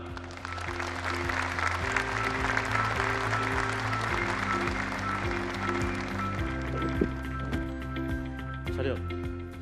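Audience applause welcoming two KF-21 fighter developers at the rollout ceremony at KAI's Sacheon plant, a steady wash of clapping heard under sustained music and announcer speech throughout.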